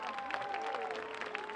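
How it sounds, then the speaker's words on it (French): Audience at an evening concert applauding, dense steady clapping from a crowd heard briefly and at a distance. "On peut applaudir toutes les femmes, nos mamans, nos sœurs"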